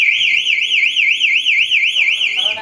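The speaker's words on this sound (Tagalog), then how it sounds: "Alarm system muna." A home monitoring alarm system sounds during a test, giving a loud, steady warbling electronic siren that rises and falls about every quarter second and runs the whole time, with a faint voice underneath.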